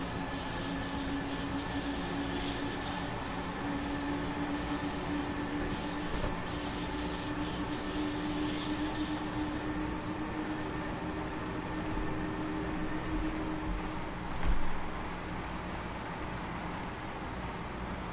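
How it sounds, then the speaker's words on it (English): A Black 5 British steam locomotive runs in Train Simulator 2016 on the Weissdorf Branch Line, a steady rolling rumble with rhythmic rail clatter and a high whine, continuous and close throughout. "it's a British steam engine"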